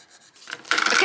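A rub-on transfer being burnished onto a teenager's birthday card, a close dry scraping rub that starts faint and grows louder and steadier toward the end, heard alone.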